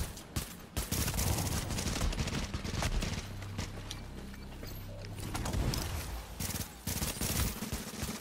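Rapid gunfire from a fast-firing pistol in a video game comes in dense bursts of sharp shots over most of the clip. Brief gaps fall between volleys, with excited voices and game noise in the background.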